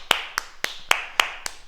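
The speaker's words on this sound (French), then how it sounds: "Et on s'applaudit très fort." Six sharp, evenly spaced hand claps from a group in a martial arts fitness class, crisp and close, arriving at a brisk regular pace of roughly one every quarter second with nothing else heard.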